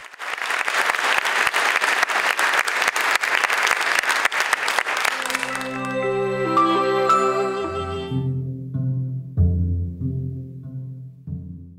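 Loud audience applause after a concert of light dance tunes and Elizabethan-era music fills the first half, then fades as a music passage takes over with sustained tones.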